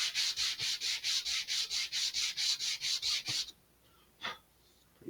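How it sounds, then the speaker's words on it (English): Hand sanding burrs off a laser-cut wooden model rocket part: about fourteen quick, even rasping strokes in a steady rhythm, close and fairly loud, then a stop with near silence and one short scrape near the end. "I'm just going to sand off like this, and the burrs are gone."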